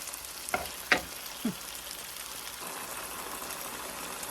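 Garlic, onion and tomato sauté in a pan with a steady soft sizzle, broken by a few spoon scrapes and clinks as the mixture is stirred.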